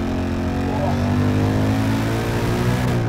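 A 2021 Ford Mustang RTR engine pulls under throttle, a loud, sustained, rising engine roar heard from nearby with no talk over it.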